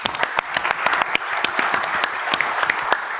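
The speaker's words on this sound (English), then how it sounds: "Round of applause for Peter." Audience applause for a speaker at a panel event on network APIs, a brief burst of dense clapping from a room of people, close and fairly loud.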